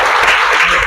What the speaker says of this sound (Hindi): इनके लिए जबरदस्त ताली हो जाए।